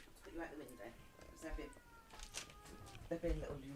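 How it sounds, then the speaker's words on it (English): A domestic cat meows several times, mixed with people talking and shuffling indoors while a small 3D-printed computer case is being assembled. "that is the noise of Flame. He is our cat"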